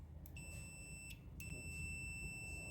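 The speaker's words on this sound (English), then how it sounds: "using a multimeter, this one here, I've got it connected to sound so we can see" A multimeter on its continuity setting beeps as it tests a coffee machine heating element: a faint, high tone in a few short bursts, then a longer sustained tone over a low background hum.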